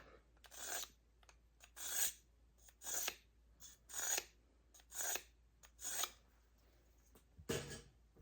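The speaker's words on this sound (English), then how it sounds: "You can just feel when it stops catching, that's when your knife is sharpened." A kitchen knife drawn through a small handheld sharpener gives about seven close, evenly spaced rasping strokes, each a short gritty scrape, with a final lighter pass and no talking.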